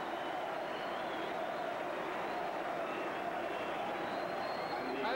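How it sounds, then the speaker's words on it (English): A football stadium crowd at a 1990 testimonial match between an England XI and an Italia '90 XI, a broad continuous roar of cheering that stays steady, heard from a distance. "I think the crowd really liked that."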